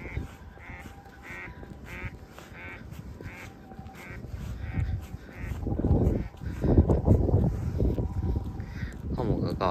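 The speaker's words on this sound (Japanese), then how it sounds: "カモがガーガー言ってる" Ducks quack repeatedly from a lakeside on a drizzly morning walk where swans also swim, the calls coming in short bursts at moderate distance while a person talks over them and low rumbling noise grows louder midway.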